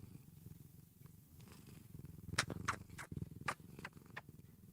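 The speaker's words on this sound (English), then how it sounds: "That's ASMR cat purring." A cat purrs close to a microphone, a soft, steady rumble with clicks and small bursts of noise; no one speaks over it.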